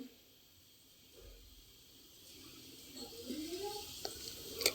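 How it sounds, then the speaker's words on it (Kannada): Small sambar onions and crushed garlic frying in a pan give a soft, steady sizzle that swells slightly louder toward the end, with faint stirring scrapes. "ಇವಾಗ ಈರುಳ್ಳಿ ಎಲ್ಲ ಸ್ವಲ್ಪ ಫ್ರೈ ಆಗಬೇಕು ಅಲ್ಲಿ ತನಕ ಫ್ರೈ ಮಾಡ್ಕೊಳ್ತೀನಿ"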